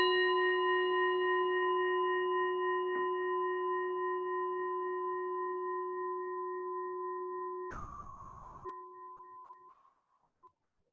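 A meditation bell rings with a clear sustained tone that slowly decays over about ten seconds, briefly disturbed by a short noisy rustle near the end before fading into silence.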